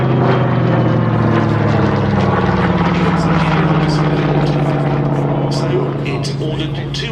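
Curtiss P-36 fighter aircraft flying at the Battle of Britain airshow at Duxford, its steady propeller engine drone loud and continuous throughout, with a commentator talking over it.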